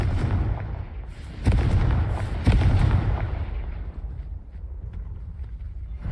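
In Hogwarts Legacy, the Confringo fire spell goes off as a pair of loud, booming explosive blasts with heavy low rumble, then a fading tail, and no speech.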